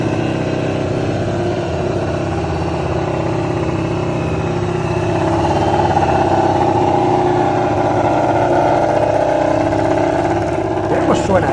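A Honda MotoGP racing motorcycle engine runs with a steady, buzzing mid-pitched drone, holding near-constant revs throughout.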